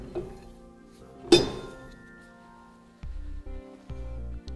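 A flat washer and outer bearing come off a Dexter Nev-R-Adjust electric trailer brake hub with a sharp metallic clink, followed by faint rattles and a low hum.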